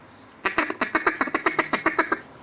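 A handheld duck call whistle is blown close and loud in a quick run of about a dozen evenly spaced quacking notes, with no other sound.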